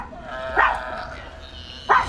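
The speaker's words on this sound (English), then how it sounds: "Dog, stop barking because the power came back on." A dog barks twice, sharp and fairly close, over a low background hum indoors.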